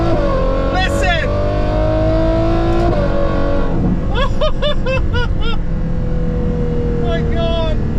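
Ferrari Novitec 812 N-Largo V12 engine roars continuously with a loud, dense drone inside the cabin, with rising pitch sweeps as it revs, while a voice exclaims briefly over the noise.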